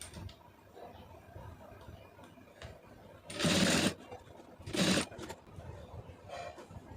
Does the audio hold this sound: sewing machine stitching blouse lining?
yes